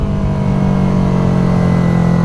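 A Yamaha R3 motorcycle engine held at steady throttle, a loud continuous mid-pitched drone with a low buzzing hum throughout, close and alone without speech.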